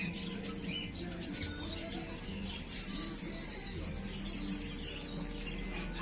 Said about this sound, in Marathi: हे बघा किती प्रकारचे मस्त छान छान पक्षी आहेत इथे